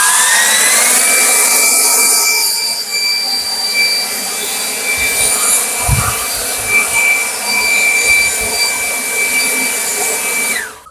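An Anykit 20V cordless leaf blower in turbo mode roars at a steady high pitch outdoors while pushing leaves around a yard, loud and continuous before winding down at the end.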